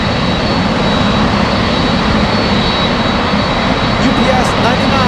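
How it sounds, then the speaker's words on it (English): A UPS Boeing 747 cargo jet on final approach into Anchorage, arriving from Seoul, gives a loud, steady broadband engine roar that holds without letup throughout, with a thin high whine running over it. "UPS 99 on final approach. A big 747 flying in from Seoul."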